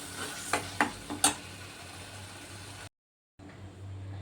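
Drumstick bhaji being stirred in a pan, a few sharp scraping strokes early on over a soft steady sizzle, then a brief silence and the low sizzle returning.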